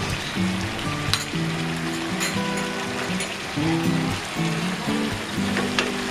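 Ginger, cumin and garlic paste sizzles in hot oil in a pan for Bengali-style chicken kosa curry. The frying crackles steadily and close throughout, with faint clinks and kitchen sounds mixed in.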